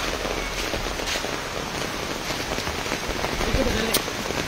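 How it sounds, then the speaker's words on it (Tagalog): Steady rain falls during a storm in the Philippines, a dense continuous hiss of drops on surfaces that holds an even level throughout, with a brief faint tone near the end. "dito na sobrang init naman tapos ngayon umulan na po"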